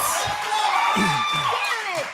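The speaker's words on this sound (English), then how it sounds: "And the crowd leaps into applause" A live studio audience at a Schmoedown movie trivia match cheers, with rising whoops and scattered clapping. The bursts are short and lively and mix with voices talking.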